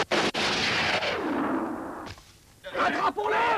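Gunshots in a 1985 Indonesian action film, a sharp burst at the start followed by rumbling blasts and shouting voices, loud and close.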